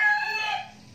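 Chickens near their nests in Pampanga, Philippines, give a short, close rooster-like crow that fades into soft clucking, with no talk.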